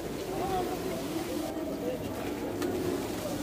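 Jalali pigeons at the Shah Jalal shrine in Sylhet make soft, low cooing calls close by, mixed with a murmur of voices around the site.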